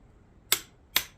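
Two sharp, close clicks from a torque wrench reaching its setting while tightening a top end on a Sea-Doo XL800 GP800 waverunner engine, spaced about half a second apart over quiet background.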